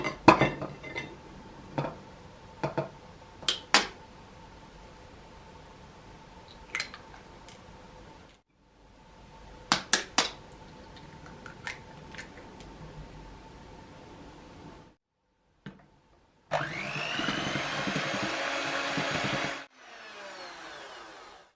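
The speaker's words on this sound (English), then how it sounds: "First, beat the eggs." Eggs being beaten in a mixing bowl for a Madeira cake, with a utensil clinking and scraping against the bowl in short bursts, then a stretch of steady whirring, all fairly close.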